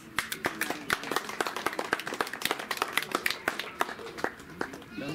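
Hands clapping at a 50th-year family celebration: dense, lively, fairly even rhythm from a group of people nearby, sustained throughout at moderate volume with no talking over it.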